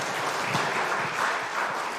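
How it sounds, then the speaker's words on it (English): Audience applause at a school live-stream event, a dense steady patter of clapping from a crowd filling the whole moment. "can we give Paul a big round of applause?"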